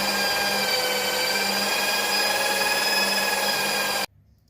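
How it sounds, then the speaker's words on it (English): A power drill bores out a stripped mirror screw on a 1998 Toyota RAV4, holding a steady, close, high whine for about four seconds before stopping abruptly. "I'm going to drill this last one out."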